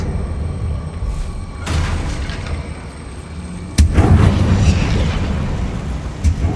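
Bombarda blasting spell going off in the game Hogwarts Legacy: a loud, sudden booming impact that leaves a heavy rumbling roar trailing after it, following a quieter build-up of magical whooshes.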